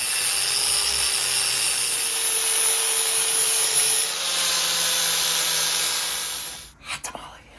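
A machined part is sanded with 60-grit sandpaper in a steady, broad rasping rub that continues for several seconds before stopping, followed by a few brief knocks.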